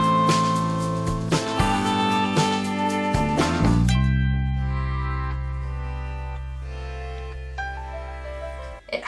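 Electric guitar volume swells: sustained, layered chords fade in smoothly without a picked attack, then a long, low ringing chord holds and slowly decays.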